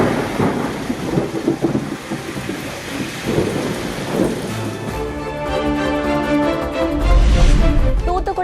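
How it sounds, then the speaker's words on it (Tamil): Heavy rain with strong wind pours steadily around Thiruvengadam in Tenkasi district, a dense, loud hiss that continues throughout, with low rumbling gusts swelling near the end. "தென்காசி மாவட்டம் திருவேங்கடம் சுற்றுவட்டார பகுதிகளில் பலத்த காற்றுடன் கனமழை."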